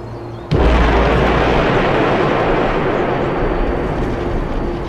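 A neutron bomb explosion sound effect from a size comparison of explosions: a sudden loud blast followed by a dense, sustained roaring rumble that fills the remaining seconds.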